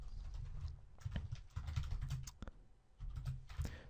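Keys clatter on a computer keyboard as someone enters an SQL query, a quick and irregular patter of clicks in short bursts separated by brief pauses, close and fairly quiet.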